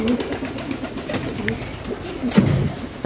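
Pigeons coo softly in a nesting area where eggs are being laid, giving low, throaty calls that repeat at a near distance over faint background noise.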